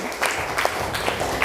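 A class of students in a classroom claps together in a short burst of applause, a brief wash of hand claps at steady volume.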